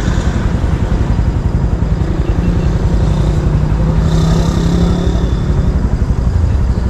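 Steady traffic of many cars and motorcycles rolls past nearby, a continuous loud engine rumble with occasional louder passes.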